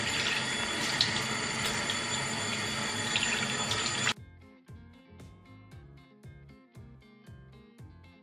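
Hands washed with soap under running lukewarm water to remove paint, a dense rush of faucet water that stops midway, followed by quieter rhythmic rubbing and dripping sounds.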